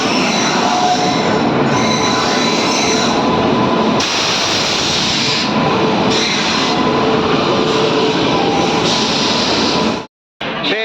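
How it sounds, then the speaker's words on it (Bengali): The Lucknow Express stands at platform 7 of Samastipur Junction amid a loud, continuous rumble of rail and station noise that swells and eases before cutting off abruptly near the end. "সমস্তিপুর জংশনের 7 নম্বর প্ল্যাটফর্মে দিয়ে দিয়েছে আমাদের 152-03 লখনৌ এক্সপ্রেস"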